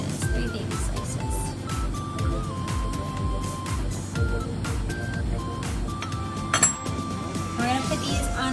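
A knife cuts a mini pizza into three small slices on a metal sheet pan, with repeated close clinks and scrapes of metal under steady talk.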